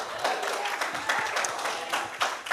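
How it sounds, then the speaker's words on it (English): A youth-service audience gives a big round of applause for two speakers, a dense, steady wash of many hands clapping at close range with a few louder bursts, no talk over it. "So with a really big round of applause,"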